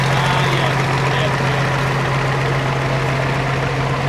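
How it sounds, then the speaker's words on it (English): A Nuffield 950 tractor's four-cylinder engine idles in the show ring at the Great Dorset Steam Fair, a steady low throbbing hum with a constant drone, close and loud, with a voice talking over it. "It's powered by a 950 engine,"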